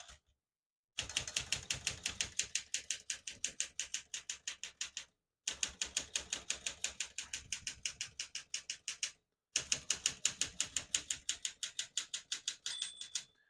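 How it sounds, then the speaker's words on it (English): Rapid typing on a 1964 Smith-Corona Galaxie portable typewriter, three close bursts of crisp, even key strikes separated by short pauses, with a faint margin bell ring near the end. "Once you hear the bell, you're at the end of the margin."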